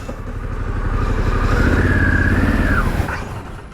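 A motorcycle being ridden on a trip through Africa roars loud and close, its engine note climbing through a sustained rev and dropping off near the end.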